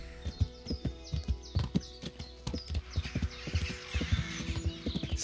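Horse hooves clip-clop steadily in a brisk, even gait as a rider travels in the medieval game Kingdom Come: Deliverance, close and clear with light ambient bird chirps and no talking.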